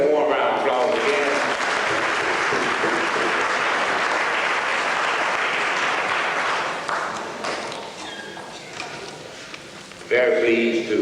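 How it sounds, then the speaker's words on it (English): Audience applause fills a lecture hall after a call to welcome the performers, broad and steady for several seconds before fading, with a voice speaking over its start and returning as it dies down. "Let's give them a warm round of applause again."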